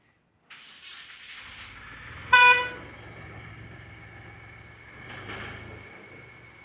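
A hearse van starting up: a low engine rumble begins and idles steadily, interrupted by a short loud horn blast and later a softer second toot, heard close by without talking.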